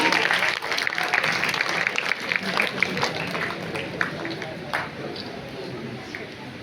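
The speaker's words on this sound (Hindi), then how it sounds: "सभी जोर से तालियां बजाएं हमारे विजेताओं के लिए।" An audience at a school Hindi fortnight closing ceremony claps for prize winners, a dense patter of hand claps that is loudest at the start and thins out, with a voice talking over it.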